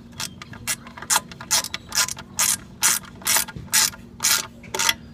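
Ratchet wrench tightening a bolt on a mini-bike, about a dozen rapid clicking bursts in a steady back-and-forth rhythm, close and fairly loud, over a low constant hum with no talking.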